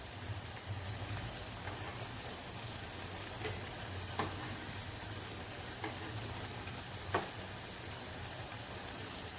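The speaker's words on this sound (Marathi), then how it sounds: "दोन्ही साईडने चांगले असे खरपूस आपल्याला फ्राय करून घ्यायचे आहे." Kothimbir vadi crisp in a pan with a soft, steady low sizzle and a few faint ticks and pops scattered over it. No one speaks.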